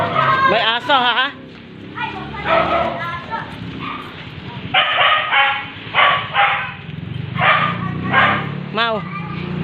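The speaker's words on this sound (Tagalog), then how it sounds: "May aso, ha?" A dog barks and yips repeatedly in short bursts near a beach on a family outing, while people talk throughout and a car is faintly present.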